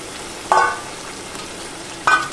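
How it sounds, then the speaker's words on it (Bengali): Spice paste with fried potato and jackfruit stirred in a pan for a jackfruit curry: a steady close sizzle, with two louder scraping stirs standing out. "ভালো করে মশলাটা কষিয়ে নেব"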